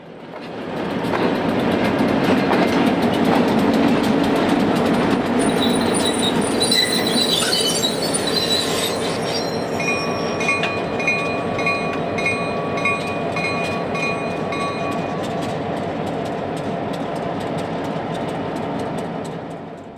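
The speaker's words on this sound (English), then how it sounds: "two more switchers follow the slab train back into the plant." Switcher locomotives trail a slab train into a steel mill, with a loud rumble of wheels and engines, rhythmic rail clatter and high metallic squeals from the wheels that fade toward the end.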